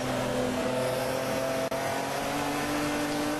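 Brett Strom's BMW touring car engine on a 3-mile race track, recorded from on board as a steady loud drone with no pauses and a single brief dropout partway through.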